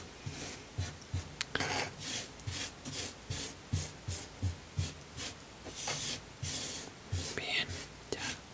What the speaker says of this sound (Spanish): Los sonidos que hice con la arena